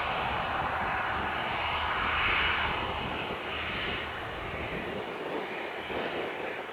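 Fixed-wing airplane taking off at Spirit of St. Louis Airport, a broad steady engine roar that swells slightly and holds, heard from a distance outdoors with no talk.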